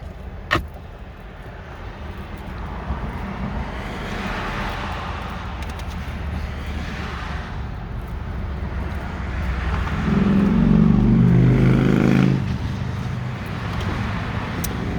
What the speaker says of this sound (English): You are going to hear motorcycles going, driving past by.